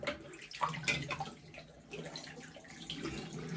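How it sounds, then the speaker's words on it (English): Fresh water runs from a tap into a basin for shaving, a close, soft splashing gush with small trickles and drips, with no talking. "Get some fresh water in."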